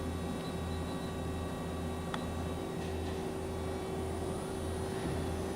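2013 Okuma LB-3000EX-II-MYW CNC lathe with its spindle running at 3000 RPM: a steady, even machine whine and hum with a faint pulsing low drone and no talk.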